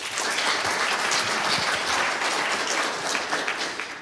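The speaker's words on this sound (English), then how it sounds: "Another round of applause" Steady applause from a conference audience at a networking session, a dense even wash of clapping that holds for several seconds and thins slightly near the end.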